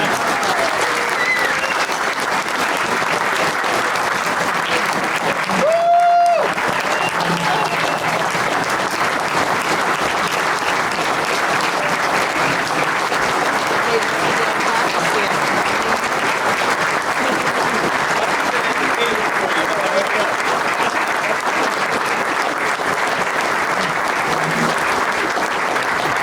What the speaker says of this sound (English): Give a round of applause for Brother Dan Kremen.